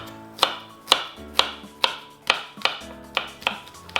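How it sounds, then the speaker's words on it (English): One onion being finely chopped for roasted tomato soup: about nine crisp, evenly spaced knife strikes, close and clear, with no talking. "So we'll go ahead and finely chop this one onion."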